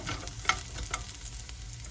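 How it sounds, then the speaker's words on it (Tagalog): Garlic sautés in cooking oil for pork pochero, a brief, close, steady sizzle with a few soft stirring knocks, fairly quiet and without voices. "saute the garlic hanggang maging light brownish siya mga kabeshi"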